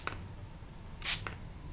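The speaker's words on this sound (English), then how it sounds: "and then I'm going to spray again on this end." A spray bottle of isopropyl alcohol gives one short, sharp hissing spray, with faint clicks of the trigger just before and after.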